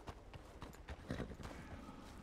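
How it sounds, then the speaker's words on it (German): A horse's hoofbeats clip-clop outdoors in the wild, a steady close rhythm of soft thuds, with no talk. "Dem Hufgetrappel des Pferdes."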